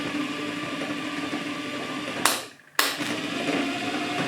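A CNC4A rotary tumbler spins with a steady whirring, grinding hum throughout, cutting out briefly near the end before resuming just as loud.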